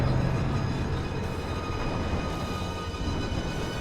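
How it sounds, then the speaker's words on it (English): A tram rolls in aboard a futuristic space station in the game Pragmata, giving a steady low mechanical rumble and hum that stays loud and even throughout, with no voices. "I see the tram."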